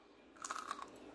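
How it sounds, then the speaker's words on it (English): A golden apple (pommecythere) being cut with a knife for a pickled chow gives a short burst of crisp, close crunching that lasts about half a second against a quiet background. "But listen to this crunch."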